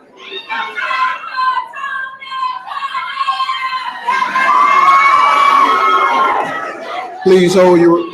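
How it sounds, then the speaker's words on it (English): Graduates and audience at a 2019 academy commencement ceremony break into loud cheering, whooping and shouting, with children's voices, building into a sustained roar near the end. "Please hold your applause, please."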